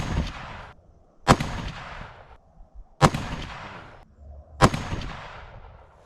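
Four loud rifle shots from a Ruger American Gen II in .30-06 firing 150-grain ammunition, each a sharp crack with a long decaying boom, spaced roughly 1.4 seconds apart at an outdoor range.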